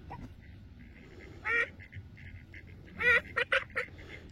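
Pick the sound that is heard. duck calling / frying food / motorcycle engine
duck calling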